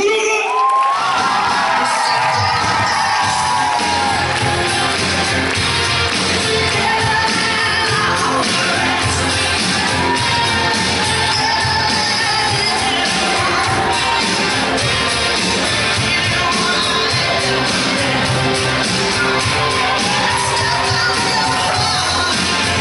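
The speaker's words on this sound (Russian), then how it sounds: "Аплодисменты друг другу!" A large crowd cheers, shouts and whoops with applause, loud and sustained throughout, with children's voices rising out of the noise.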